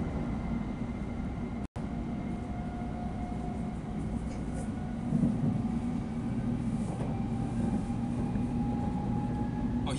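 Continuous low rumble and hum from inside a bullet train riding through Tokyo, faint and steady with one brief sharp break early on and a slight swell later, no talking.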